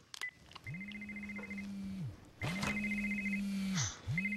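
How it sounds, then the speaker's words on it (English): A mobile phone rings with a repeating electronic ringtone in two long bursts, each a steady warbling tone paired with a low hum, close and fairly loud with no talk. "Where's my phone? I can't find my phone. Let me call it."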